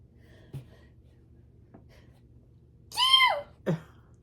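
A single sharp sneeze bursts out after a quiet moment, preceded by a breath and followed by a short exhale, close to the microphone.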